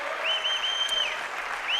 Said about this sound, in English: Big crowd, big celebration for the Nambucca Roosters as they get onto the pitch here at McKittrick Park.